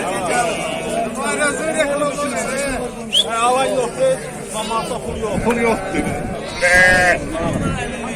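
Sheep and lambs bleat repeatedly amid a busy crowd of people talking nearby at a livestock market in Füzuli, the animal calls rising over the chatter.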